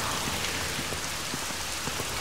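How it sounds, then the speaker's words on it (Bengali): Steady rain pours down, a dense hiss with scattered drops pattering on a surface, continuous and fairly close. "বৃষ্টি হচ্ছে"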